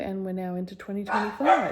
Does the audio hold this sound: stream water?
no